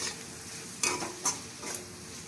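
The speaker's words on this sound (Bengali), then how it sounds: "দিয়ে আমি এটাকে আবার ভালোভাবে ভাজতে থাকবো।" Chowmein vegetables fry in a hot pan with sugar, pepper and vinegar, a soft continuous sizzle broken by a few sharp stirring scrapes from a spatula.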